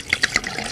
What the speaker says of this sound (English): Kristen Bell just pouring to the brim is the realest thing I've ever seen.